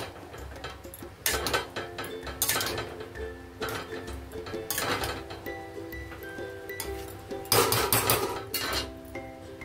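A metal lid goes onto a cooking pan of methi rice made with winter vegetables, giving several sharp clanks and rattling taps spaced a second or two apart over a low background hum.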